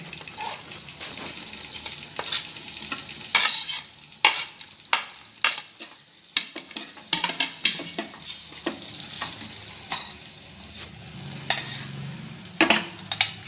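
Mint leaves, peas, beans and carrots stirred in a frying pan for veg biryani, with repeated scraping spoon strokes over a steady soft sizzle, close and fairly quiet.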